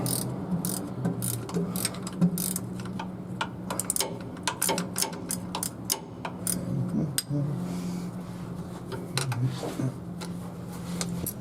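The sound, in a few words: ratcheting box wrench turning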